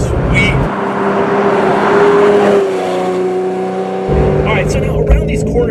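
A Ferrari Testarossa's engine revs under load while driving, giving a loud, continuous tonal roar that shifts pitch as the revs change, with road and wind noise inside the cabin.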